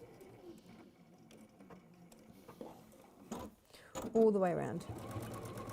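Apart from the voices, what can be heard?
sewing machine top stitching around ribbon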